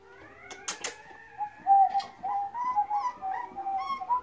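A small Airedale Terrier puppy's high whimpers, growls and squeaky little vocal sounds, several short cries close by, with a couple of brief sharp noises early on.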